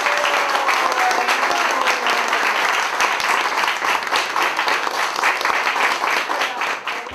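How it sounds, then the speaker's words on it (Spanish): Loud, sustained applause from a crowd at a tribute ceremony, dense and steady throughout with no pauses, tapering slightly near the end. "pido un fuerte y caluroso aplauso"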